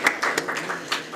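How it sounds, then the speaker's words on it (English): A few scattered claps ring out at an official launch event in Nairobi, a sparse and uneven smattering of individual hand claps, fairly quiet and brief. "you deserve a round of applause."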